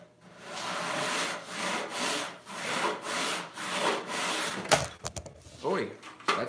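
Hand saw resawing an 8-inch-wide walnut board, steady rhythmic rasping strokes close by, about one stroke per half second, slowing and breaking into scattered scrapes and knocks near the end.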